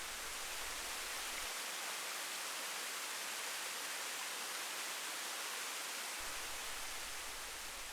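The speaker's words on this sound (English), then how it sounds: "just let your senses be overwhelmed by the sights and sounds of the movement of the water" Melbourne waterfall with water pouring steadily, a dense, even rushing hiss that holds constant throughout with no voices.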